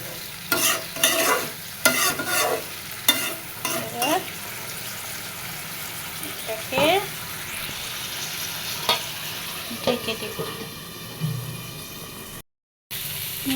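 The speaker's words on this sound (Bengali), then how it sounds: "হালকা একটু একটু জল দিয়ে নিলাম যাতে তরকারি মশলাটা কষে যায়" Spiced fish curry masala with potatoes and vegetable stems being stirred and fried in a pan after a splash of water, with repeated scraping stir strokes over a steady sizzle, close and fairly loud, no talk.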